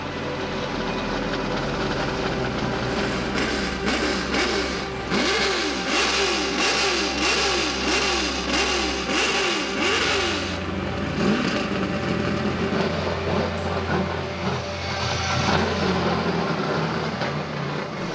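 A car with a freshly installed motor that won't hold idle revs repeatedly in quick rising and falling bursts, then settles into a rough, unsteady idle with throttle blips, loud and close in a shop.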